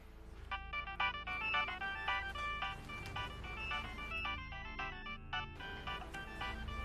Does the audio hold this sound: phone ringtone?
yes